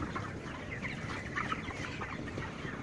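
Broiler chickens clucking in a coop, a soft continuous chorus of overlapping clucks and murmurs from many birds, low in level and steady throughout.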